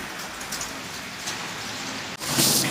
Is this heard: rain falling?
yes